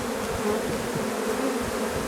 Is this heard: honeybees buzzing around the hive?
yes